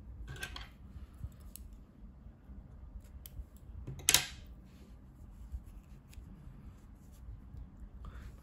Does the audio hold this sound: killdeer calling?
no